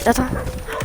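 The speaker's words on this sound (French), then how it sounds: "Il y a un chien." A quick sharp bark from a dog in Fortnite, followed by a short whimpering yip, heard over background game noise.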